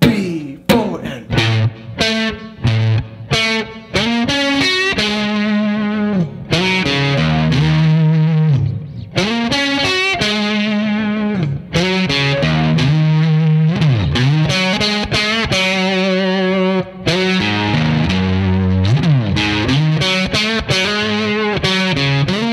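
Distorted electric guitar plays an intro riff, loud and close with heavy effects, moving from sharp choppy stabs into sustained bent notes and octave phrases, uninterrupted by talk.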